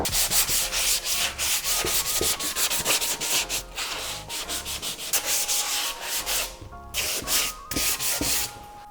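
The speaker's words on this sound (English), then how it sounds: "I'm going to sand the parts that need to be repainted slightly with some sanding sheet" Sanding sheet rubbed by hand over a worn leather steering wheel before repainting, a steady rasping scrub in quick repeated strokes, close and fairly loud, with short pauses between passes and no talking.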